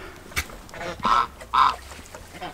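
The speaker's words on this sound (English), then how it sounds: "some of the geese have found the pond is being filled with fresh water." Domestic geese honking at a pond being filled with fresh water, two loud honks in the middle among a few softer calls, with no talk.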